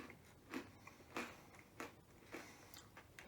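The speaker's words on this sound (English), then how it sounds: "All right, so let's try some freeze-dried ice cream sandwich." A freeze-dried ice cream sandwich with a chocolate cookie layer is bitten and chewed up close, about five soft crunchy bites at a steady pace in a quiet room, with no speech.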